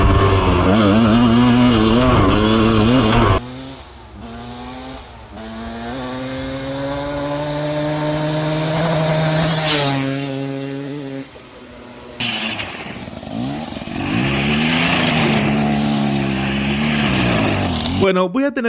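A two-stroke engine revs up and down repeatedly, loud and close, with rising and falling whines and brief pauses between bursts, like an engine being blipped for show.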